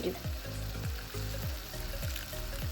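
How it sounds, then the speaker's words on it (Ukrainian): Mushroom soaking water poured into potatoes frying with golden onion: a dense hiss and sizzle with repeated low bubbling surges, close and loud for a few seconds, with no voices. "сюди наливаємо ту водичку, у якій набухали грибочки. 300 мл."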